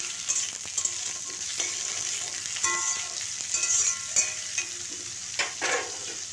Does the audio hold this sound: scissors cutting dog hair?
no